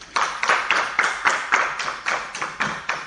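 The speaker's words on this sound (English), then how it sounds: "Round of applause for man, please" Rhythmic clapping at a media club gathering, with crisp, evenly spaced claps about twice a second, steady and fairly close, and no talk over them.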